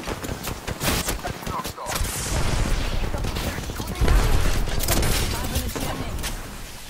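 Gunfire in the Apex Legends video game, sustained rapid bursts and automatic fire running the whole time, loud and close, with voices talking over it.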